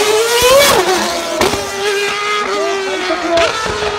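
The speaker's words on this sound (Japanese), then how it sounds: "F1 カー、ありえない加速、そしてありえないコーナリングスピード" A Formula 1 car accelerates hard and drifts on a Tokyo street course, its loud high-pitched engine climbing and dropping through several rapid gear shifts and revs, close by, with no talk.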